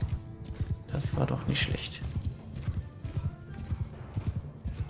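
Horse hooves clip-clop at a gallop in a medieval strategy video game, a steady rhythmic patter running under a man's speech throughout, with a brief whinny.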